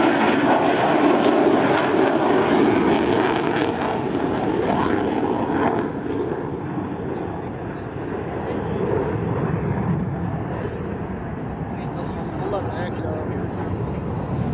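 A US Navy F/A-18 Super Hornet fighter jet roars loudly overhead at an air show demo as a voice talks over it, the engine noise easing slightly after a few seconds.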